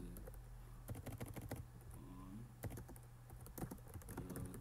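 Rapid bursts of keystrokes on a computer keyboard, typing into a blank Microsoft Word document, close and clear with brief pauses between runs of clicks over a low room hum.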